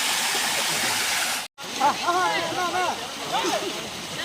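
Water from a small rural waterfall rushes out of a cave in a steady broadband roar, broken by a brief cut, then continuing under someone talking close by.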